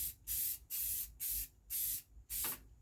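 A spray gun lays a coat of paint on a TLB in five short, even hissing bursts with brief pauses between, close and fairly quiet, no talk.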